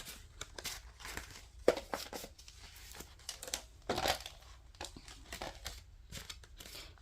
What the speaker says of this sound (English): I'm going to put all of these in here because I should be able to cut through 4 of these pages.